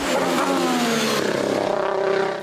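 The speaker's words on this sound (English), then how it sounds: "The engine noise, the downshifts of this Honda engine in this car." Honda engine of the AlphaTauri AT01 Formula 1 car in 2020, revving loudly then falling through a sequence of rapid downshifts, continuous and alone.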